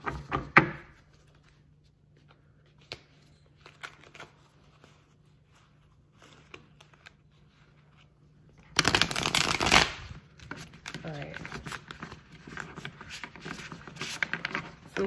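Tarot cards being shuffled by hand: a quiet riffle and tap near the start, then after a long hush a loud burst of dense, flapping shuffling that goes on as a steady papery patter to the end.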